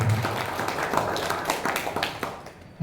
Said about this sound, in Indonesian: Tepuk tangan untuk Muhammadiyah